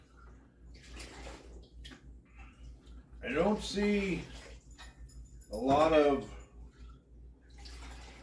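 Moonshine made from corn and barley pours from a 10-liter barrel, a continuous trickle and splash of liquid throughout, with someone talking loudly over it in two bursts.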